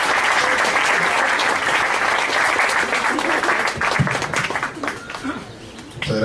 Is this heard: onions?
no